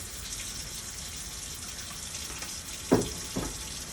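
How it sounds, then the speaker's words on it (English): Water from a tap running steadily over parts of a Cerec dental milling unit being rinsed in a sink, a continuous hissing flow with a couple of brief splashes near the end, close by and without talk. "So you just give it a good rinse so that you don't see any more"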